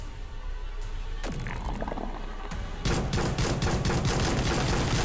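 Rapid pistol shots in the VR game Neuro Hacker: Intrusion, a quick run of sharp cracks that begins partway through and keeps going steadily to the end.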